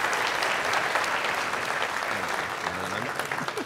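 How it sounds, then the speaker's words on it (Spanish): Sustained audience applause at a strategy conference session, steady dense clapping from a crowd throughout, moderately loud with faint murmuring underneath. "Un fuerte aplauso para Miguel"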